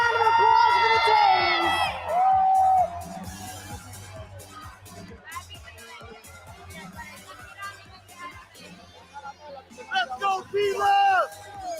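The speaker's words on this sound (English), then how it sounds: "Let's have a big round of applause for the team." Crowd cheering and whooping at the World Butchers' Challenge 2022 butchery competition, loud and sustained with shouts and babble, surging again near the end; applause is not clearly distinct within the cheering.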